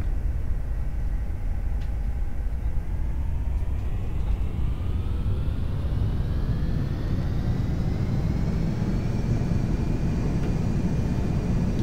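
Airliner engines spool up for takeoff in a flight simulator game, a steady broadband roar with rising whine building over the run, loud and continuous with no talk.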